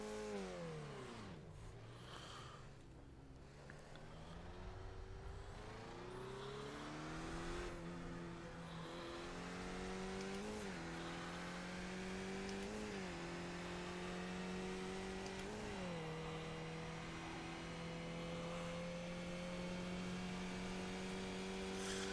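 Skipp Barber race car engine on an out lap at Interlagos in the iRacing sim, revving up and down through gear changes at an easy pace, with steady engine drone throughout and no talk.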